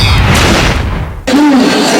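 A fireworks display greeting LeBron James at an arena during his Witness History tour in the Philippines: a loud booming burst with crowd noise, a brief near-silent gap, then a roaring crowd again.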